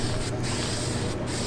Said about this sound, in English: Spray that panel.